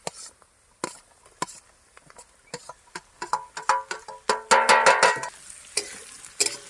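Onions frying in a pan for a village-style veg chowmein, with repeated sharp clatters of a spatula stirring and scraping, building into a dense burst of sizzle midway before easing off.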